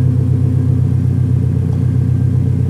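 A Mazda 121 fitted with a K24 engine and individual throttle bodies idles steadily, a loud, close, even low rumble with a fast regular pulse and no changes in pitch.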